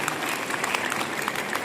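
Applause at a public political event in India, a brief burst of dense crowd clapping, loud and continuous.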